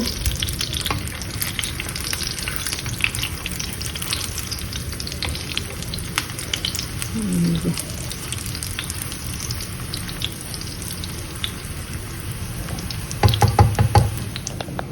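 Burger chicken sizzling steadily in a frying pan, a continuous dense hiss with occasional soft knocks and stirring clatter near the end, close and alone without speech.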